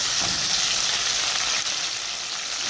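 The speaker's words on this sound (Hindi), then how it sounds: "इसमें डालेंगे लहसुन अदरक, इसको थोड़ा सा भून लेंगे।" Garlic and ginger fry in a few spoonfuls of hot oil in a karahi for a Balochi chicken karahi, giving a dense, even, close sizzle that holds steady throughout with no voices.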